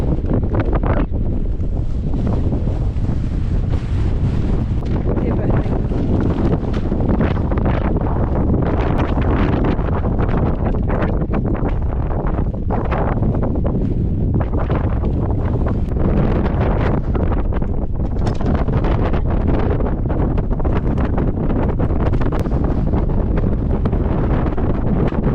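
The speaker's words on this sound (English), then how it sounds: "It's still a bit windy." Strong, continuous wind gusts buffet the microphone on the summit of High Raise, loud and roaring throughout with no talk.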